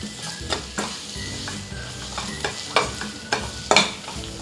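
Onions coated in spices and ginger garlic paste are stirred in a frying pan while chicken tomato gravy is being made, giving a steady sizzle with repeated sharp scraping strokes up close and no talk.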